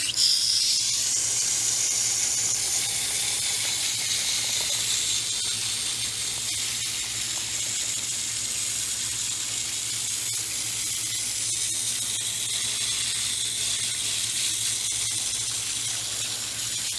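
Water spraying over freshly harvested Sweet Candle carrots during rinsing, a steady bright hiss with a low hum underneath, continuous and close, no talking.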